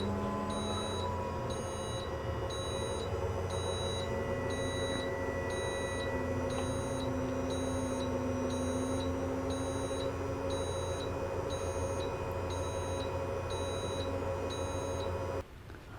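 Control panel of a 2020 Renegade Veracruz 35MD motorhome's leveling system giving a steady series of short, evenly spaced electronic beeps, repeating about twice per second over a constant low hum for most of the span before cutting off.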